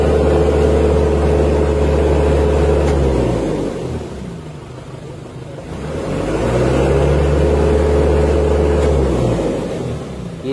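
A car engine with its check engine light on, unable to climb past 4,000 RPM, revs hard twice in a stationary acceleration test. Each loud, close, steady roar holds for a few seconds, then drops to idle between runs. No talk.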